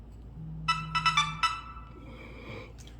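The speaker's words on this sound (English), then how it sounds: "That's mommy's phone going off." A mobile phone ringtone sounds in a home kitchen as a short series of bright, evenly spaced electronic tones over a low background hum, with a quieter trailing tone afterward.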